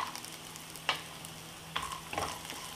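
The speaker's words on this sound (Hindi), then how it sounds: "इन्हें प्याज के साथ ही हम भून लेंगे" Raw peanuts and cashews frying with onions in a pan for rava upma, a faint, quiet sizzle broken by a few light scraping stirs and clinks.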